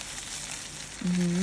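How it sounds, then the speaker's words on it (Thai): Garlic, coriander root and pepper paste frying with pork bones in hot oil, a steady broadband sizzle that swells louder near the end as a tonal hum rises beneath it, with no talk. "นำสามเกลือที่เราตำไว้ ลงผัดให้หอมเลยค่ะ"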